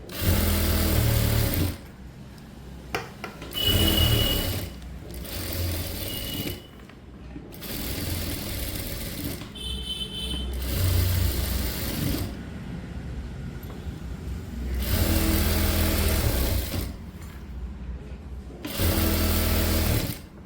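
A sewing machine stitches a blouse in several loud bursts of fast mechanical whirring, each running a few seconds and separated by short pauses, close by and with no voices.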